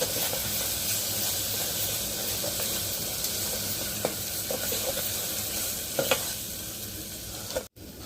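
Tomatoes and green chillies fry in a pan, giving a steady, close sizzle with soft stirring scrapes and a couple of light clinks near the end.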